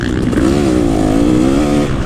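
A two-stroke motocross bike revs hard and steadily, its loud buzzing engine tone close and continuous, rising slightly in pitch as it pulls in first gear.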